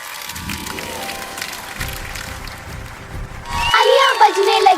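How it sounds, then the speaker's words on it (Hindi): Applause from a crowd swells up after a stretch of background music, a dense patter of many hands clapping that grows louder toward the end. "तालियां बजने लगी।"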